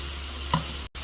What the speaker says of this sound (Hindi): अब हम इसमें टेंडे ऐड करेंगे। अच्छी तरह इसको मिक्स करेंगे ऑयल में।